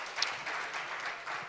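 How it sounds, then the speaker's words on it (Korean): An audience applauds at the 2022 Jeju Plus International Environmental Forum: a steady, moderately quiet wash of many hands clapping, sustained evenly for the whole moment with no voices over it. "박수 부탁드립니다."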